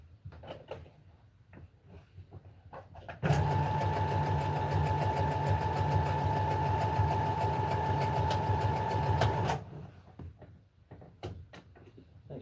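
A sewing machine runs in one steady burst of about six seconds, stitching two fabric pieces together with elastic, loud and close, with quieter handling noises before and after.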